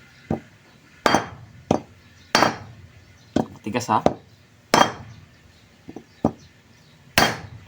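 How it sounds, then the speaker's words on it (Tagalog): A hammer strikes a rag-wrapped bearing on a Jetmatic water pump in sharp, ringing metallic blows spaced about a second apart, close and loud, with brief talk in between. "pupukpukin lang natin itong tapat ng bearing."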